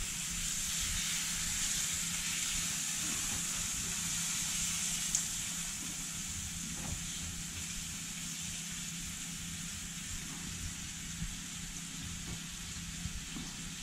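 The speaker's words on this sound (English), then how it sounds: "you're just basically searing it and sealing it before it goes in the oven" Monkfish fillets searing in a hot pan just after being flipped, a steady, moderately quiet sizzle and hiss with a few faint pops and crackles throughout, no voices.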